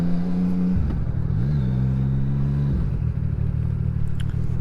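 A CF Moto 675SS sport bike engine idles and revs, a steady low drone that dips, climbs in a short rev, holds, then settles back to a rumbling idle, close and loud.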